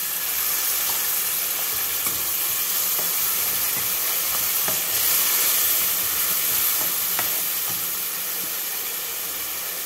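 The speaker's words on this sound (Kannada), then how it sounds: "ಈಗ ಇದಕ್ಕೆ ಸ್ವಲ್ಪ ನೀರು ಹಾಕಿ ಬಟಾಣಿ ಬೇಯಿಸ್ಕೊಳ್ಳೋಣ।" Green peas simmering with water in a pan on the stove give off a steady, unbroken hiss and sizzle of steam for the whole stretch, with faint stirring clicks and no voices.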